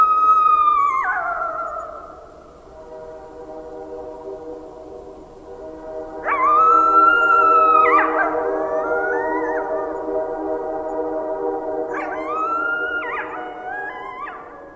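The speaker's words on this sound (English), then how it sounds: "At 2 in the morning a lone coyote on the mountain began to howl dismally." Lone coyote howling on a mountain at night, long rising and falling wails in three drawn-out bouts with wavering tones, loud and clear against a quiet background.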